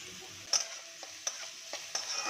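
Carrots frying in a pan with a steady sizzle, broken by a few sharp scraping stirs of a utensil.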